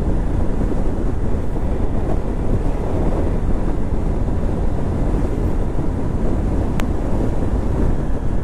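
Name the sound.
motorbike riding on a highway with wind noise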